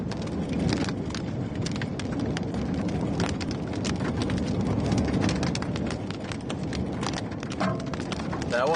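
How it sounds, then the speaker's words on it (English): Hail pelts down during a storm on the Colorado plains near Kit Carson, a dense, continuous clatter of hard stones striking surfaces close by, steady and loud throughout with sharper individual impacts popping out of the roar. "Here comes the hail."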